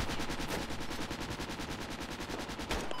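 Rapid automatic gunfire in the military shooter game Project Reality, on the Goose Green Falklands map, rattling in continuous dense bursts for the whole stretch, loud and close, with a sharper crack near the end.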